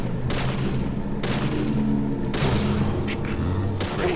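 Gunfire in the video game Deadly Premonition: three sharp broadband shots spaced about a second apart, each with a decaying tail, over a steady low background of game ambience and music.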